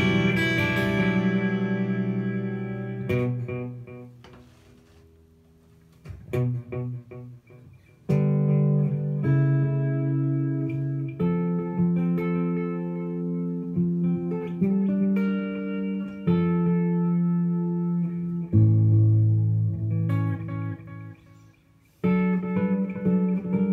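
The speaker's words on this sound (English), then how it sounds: "So I've got the DIG delay, just listen to that by itself." Electric guitar notes and chords ring out with digital delay, each phrase trailing repeating echoes that overlap into a sustained, shimmering wash; no talking.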